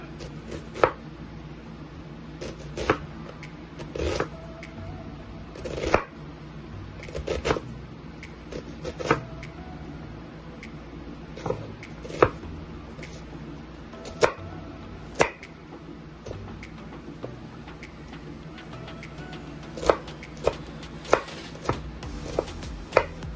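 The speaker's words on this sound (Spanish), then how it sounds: "Mira, vamos a empezar a cortar la cebollita." A knife chops an onion on a cutting board with steady, crisp thuds, close and clear, and there is almost no other sound.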